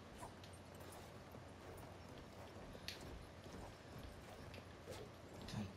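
Hooves clip-clop steadily from a horse galloping in the Battlefield 1 video game, buried in a constant rumble of battlefield noise with a few sharp hits scattered through.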